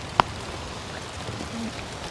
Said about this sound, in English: And that rain is starting to come down pretty good.